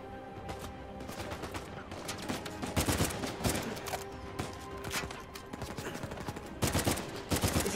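Uncharted 4 video game gunfire in rapid bursts and repeated shots, steady and fairly loud throughout, with no one speaking.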